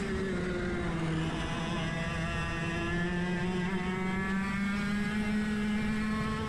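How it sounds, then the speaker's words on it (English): Several 100cc go-kart engines race around a track, one shifter kart among them, as a steady buzzing, droning whine from a distance that holds even and continuous with slowly shifting pitch and no talking. "So this is all 100cc karts on the track with the exception of one shifter."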